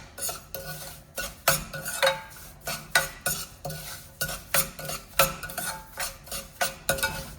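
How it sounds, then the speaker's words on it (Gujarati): A spatula scrapes and clinks against a pan while semolina siro with raisins is stirred over a medium flame, the strokes coming in a quick, fairly regular rhythm of about a dozen close, crisp passes. "જ્યાં સુધી આપણી દ્રાક્ષ ફૂલી ના જાય ત્યાં સુધી આપણે એને સારી રીતે મિક્સ કરવાનું છે."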